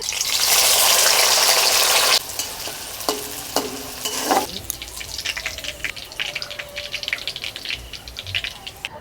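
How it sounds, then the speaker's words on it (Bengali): Onions frying in hot oil until crisp for birista, loud hissing sizzle at first, then lighter crackle with scraping and clinking of a stirring spoon, nobody talking. "প্রথমে পেঁয়াজ বেরেস্তা করে নিচ্ছি"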